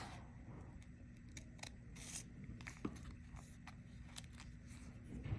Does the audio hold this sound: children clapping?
no